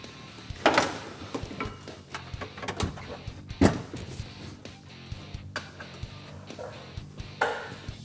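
A driver's side seat coming out of a Polaris RZR, with scattered clunks, knocks and rattles of parts being handled, one sharp loud knock standing out, close and moderately loud.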